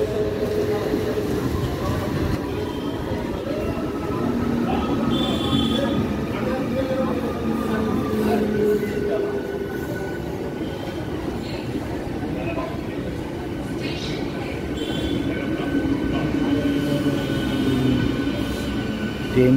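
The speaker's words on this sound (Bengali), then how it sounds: "ট্রেনটি ব্যান্ডেল জংশন থেকে ছেড়ে হুগলি রেলওয়ে স্টেশনে এলো" A down Bandel–Howrah local train arrives at Hooghly railway station, a steady loud rumble of wheels and carriages with faint squeal and clatter filling the whole stretch, no talking over it.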